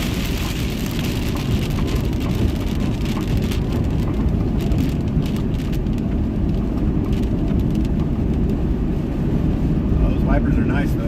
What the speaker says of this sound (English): It's got hail mixed in with it.